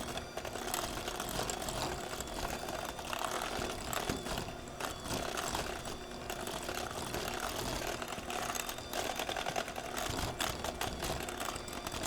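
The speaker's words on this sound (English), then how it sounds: "go ahead and give it a little bit more of a mix with our mixer" An electric mixer on a low setting blends egg and mashed banana into banana bread batter, a steady, dense whirring hum that holds unbroken and loud throughout with no voices.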